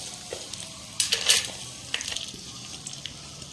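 Ingredients with tamarind fry in a pan for a raw banana chutney, a soft steady sizzle broken by a few louder bursts of stirring and scraping, close by with no talking.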